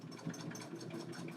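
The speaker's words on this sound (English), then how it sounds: "I'm going to stitch right along the outer edge." A sewing machine stitches along the edge of a reversible fabric gift bag, its quiet motor whirring in a steady, even rhythm with no talking.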